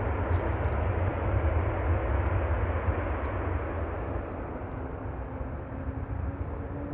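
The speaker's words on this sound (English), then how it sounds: "you can see some of the departures, the takeoffs, the beginning from runway 24" An airliner takes off from runway 24 at Amsterdam Schiphol, a broad, steady jet roar from a distance that fades slightly as it goes on, with no voices.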